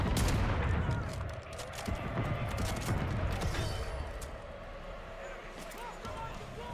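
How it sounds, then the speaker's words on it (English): Shotgun fire in Call of Duty Modern Warfare 3, a Reclaimer 18 shotgun among other gunfire, giving dense bursts of close shots over busy battle noise, with a player talking over the action. "Shotgun, shotgun."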